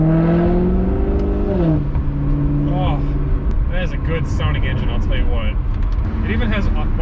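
A Maserati GranTurismo MC engine runs loud and steady, its low tone climbing and settling through a rev change, with a voice talking over it throughout.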